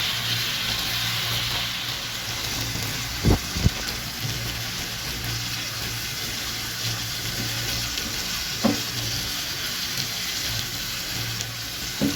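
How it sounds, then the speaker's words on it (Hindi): Onions frying in a pan while cooking tawa kaleji, a steady close sizzle with a couple of brief knocks and clinks of a utensil against the pan. "अब मैं ये इसके अंदर ना प्याज डाल रही हूँ।"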